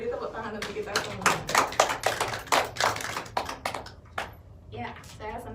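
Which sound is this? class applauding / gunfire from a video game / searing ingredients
class applauding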